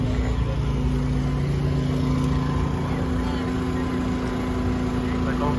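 Harley motorcycles idling at an outdoor bike night, a steady low engine drone that holds level and close for the whole stretch, with people talking nearby.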